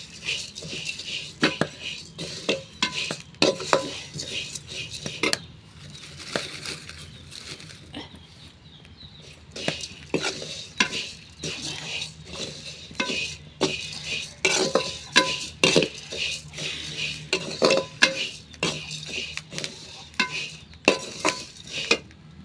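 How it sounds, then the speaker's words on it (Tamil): Coriander seeds are dry-roasted and stirred in a pan, producing repeated scraping and rattling clatters of a spoon against metal, close and fairly loud, with brief pauses between strokes. "மல்லியை நம்ம இது மாதிரி வறுத்து எடுத்துக்கோம்"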